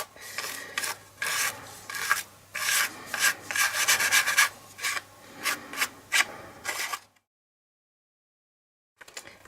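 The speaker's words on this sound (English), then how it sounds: "use a brush to take off the excess" A brush rubs loose gilding flakes off a pressed surface in a run of quick, close rasping strokes, stopping abruptly into silence before one brief final brush near the end.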